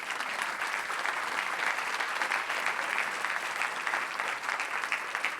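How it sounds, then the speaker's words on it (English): A conference keynote audience applauds in a dense, steady wash of clapping that holds evenly loud for several seconds, with no voices over it. "You should give yourselves a huge round of applause."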